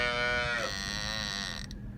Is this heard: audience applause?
no